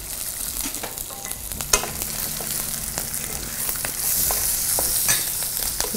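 Green and dried red chillies fry in a pan for coconut rice, giving a steady close sizzle with intermittent stirring scrapes and clinks, no voices.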